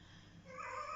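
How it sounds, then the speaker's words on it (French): A pet cat gives a short, quiet meow indoors, rising in pitch near the end of a brief, faint moment with no talking. "c'est mon chat qui aime bien faire comprendre qu'il est là"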